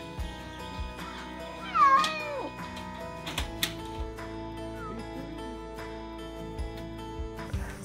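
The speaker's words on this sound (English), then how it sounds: "Bunch of feral cats coming in." Feral cats meow in a farm or horse-shelter setting, with several distinct drawn-out meows, the loudest near the two-second mark, then softer calls scattered over a quiet background of rustling and knocks.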